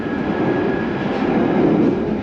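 A London Underground Northern Line train bound for Edgware runs with a loud, steady rumble and roar, with a faint high whine over the constant noise and no talk.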